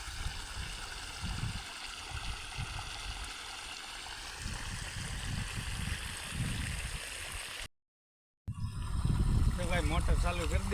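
Water gushing from a motor pump pipe line laid across a field, a continuous rushing and gurgling flow that cuts out briefly near the end and then resumes louder.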